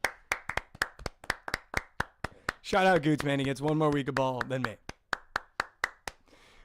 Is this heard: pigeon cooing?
no